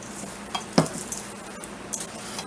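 A spoon stirs stuffed pepper filling in a pan, scraping and clinking against the metal with a soft sizzle underneath, a few distinct knocks over a low frying hiss.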